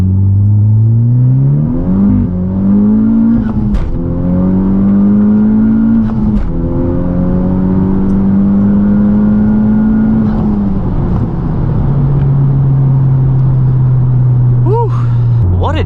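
A tuned Honda Civic Type R in R mode accelerates hard from inside the cabin, with the engine climbing through several gear shifts, loud and close, before settling into a steady drone while people talk.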